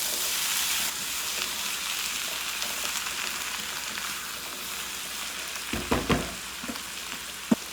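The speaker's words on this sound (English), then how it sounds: "we are going to just stir them up here, get everything well mixed together" Vegetables for Basque rice sizzle softly in a big pan, a low steady frying hiss, with a few spatula scrapes and knocks as they are stirred near the end.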